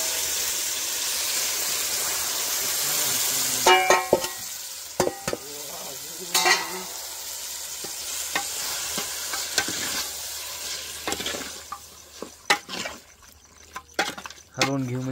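Mutton fries and is stirred in a pot over a wood-fired village stove, with a steady close sizzle and repeated scraping strokes of the spoon, plus brief voices in the background.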